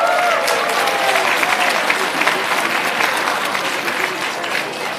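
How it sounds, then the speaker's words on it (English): An audience at a reception claps steadily and loudly for several seconds, a dense, continuous applause from a crowd with no break. "Clap for your neighbor."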